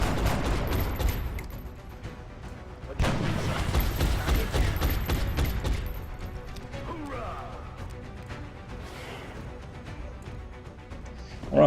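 Gunfire in the video game XCOM comes as rapid bursts of shots in two dense volleys, close and fairly loud, with quieter game effects and speech in between.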